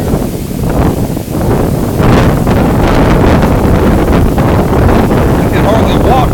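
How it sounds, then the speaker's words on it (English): Loud, roaring wind from Hurricane Irma in Jacksonville, Florida buffets the microphone nonstop beside a road, a dense rumbling gale that swamps everything else. "It's so windy out here right now."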